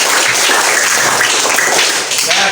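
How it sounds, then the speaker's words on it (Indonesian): A classroom audience applauds student presentations, a loud, steady wash of many hands clapping with no break across the whole stretch and no voices standing out above it. "Saya mengucapkan terima kasih dan tepuk tangan untuk yang masih"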